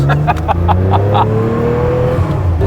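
Modified air-cooled Porsche 911 Carrera flat-six fitted with a race head, revving hard and loud with rising and falling engine pitch, close by, mixed with sharp exhaust bursts and no talking.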